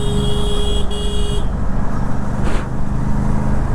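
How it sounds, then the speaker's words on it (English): An Aprilia Tuono 457 naked motorcycle's horn honks in road traffic, a steady bright tone lasting just over a second, followed by a faint second beep amid continuous engine and traffic rumble. "I am honking, still this guy he doesn't care."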